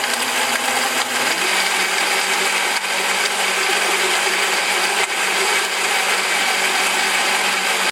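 A KitchenAid 5-speed blender with a 56-ounce pitcher whirs loudly and steadily for the whole stretch, a dense high-pitched roar with a slight shift in tone near the start.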